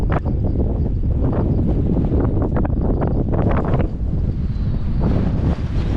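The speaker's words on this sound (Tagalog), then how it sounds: "Lakas ng hangin." Heavy wind buffets the microphone in a continuous loud low roar, gusting throughout with a rumbling, blustery texture.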